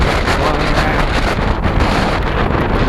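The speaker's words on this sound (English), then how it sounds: "Oh, it's windy today, boy." Steady, heavy wind buffeting the microphone while riding an electric bike, a loud low rumble that fills the whole clip with no pauses.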